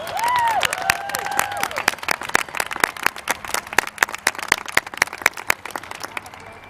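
At a graduation ceremony, a scattered audience claps in distinct, uneven individual hand claps that thin out over several seconds, with a few whoops and cheers near the start.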